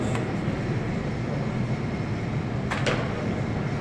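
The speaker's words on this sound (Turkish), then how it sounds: "Kapının açıldığını görüyorsunuz bu şekilde." An automatic door at a kitchen entrance, linked to a hand-sanitizer dispenser, opens and closes over a constant mechanical hum, with a brief click near the start and a pair of quick knocks later on.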